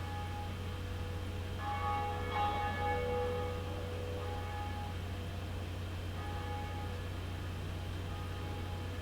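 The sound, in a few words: bell ringing in Dark Souls video game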